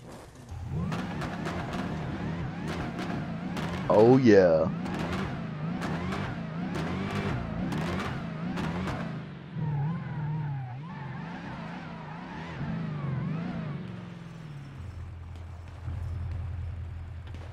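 A Ram TRX truck drives and parks in a video game, its engine revving and rumbling steadily with a brief louder surge, then idling low near the end, while a voice briefly speaks over it.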